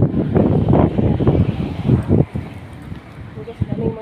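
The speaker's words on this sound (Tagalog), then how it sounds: "Yung hangin-hangin sa labas." Gusty wind buffets the microphone outdoors, rumbling and roaring unevenly, with a voice talking underneath.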